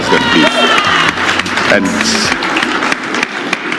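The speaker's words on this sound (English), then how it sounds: "Better round of applause for Madam President, please." Crowd noise at a Kenyan political gathering, with shouting and cheering mixed with scattered clapping; voices and a spoken word rise over the loud, busy din.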